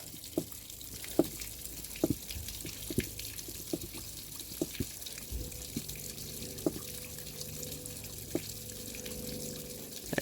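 Water running through a hose into flushing earmuffs on a 1992 Mercury Black Max outboard motor being readied for winter, a quiet steady trickle and gurgle with scattered drips and clicks.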